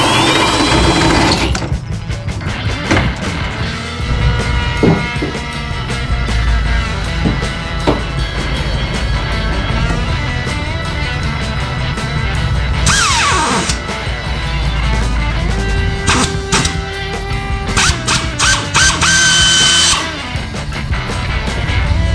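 A power drill bores holes during a custom car battery tray relocation, its loud motor whine running steadily and close, with several stops and pitch shifts as the bit bites and releases.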